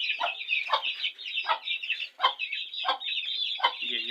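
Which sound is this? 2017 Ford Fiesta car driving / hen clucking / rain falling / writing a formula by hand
hen clucking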